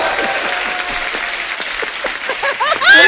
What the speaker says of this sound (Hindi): थार के लिए एक बार जोरदार ताली हो जाए